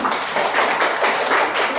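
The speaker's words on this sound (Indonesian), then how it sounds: "Tepuk tangan" Students clapping in a classroom after a group presentation, a brisk, fairly even patter of many hands at moderate loudness, pulsing slightly throughout.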